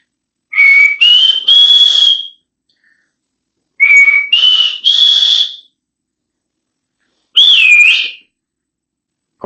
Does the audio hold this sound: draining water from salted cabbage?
no